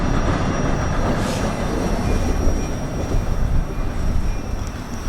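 Freight train Q046, an ethanol train bound for Jacksonville, rolls steadily past with a continuous low rumble of wheels and cars, close and loud, with faint squeals and no talk.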